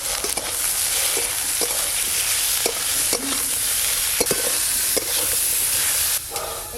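Eggplant, potato and onion fry in hot oil with salt and turmeric, giving a constant loud sizzle broken by repeated scraping stirs of the spatula against the pan.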